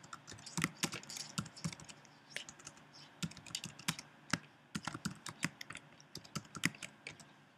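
Steady typing on a computer keyboard, close and crisp, with irregular bursts of clicks and keystrokes throughout and no speech.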